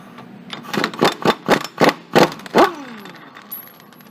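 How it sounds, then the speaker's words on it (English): An impact wrench spins off the axle nut on a Polaris Ranger front wheel: about eight loud, rapid hammering bursts in a row, then a whirring wind-down, with no talk. "we're going to spin this nut off here with an impact wrench"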